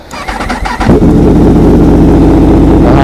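A Yamaha R1 motorcycle engine cranks with a quick stuttering starter, catches, and settles into a loud, steady idle close by, with no talk over it.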